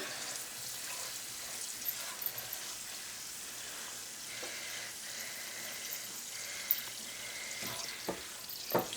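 Homemade spice paste for Kerala-style lemon pickle fries in a pan, giving a steady soft sizzle with small crackles and occasional stirring taps, fairly quiet and with no talk over it.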